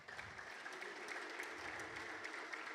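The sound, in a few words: congregation clapping for the Lord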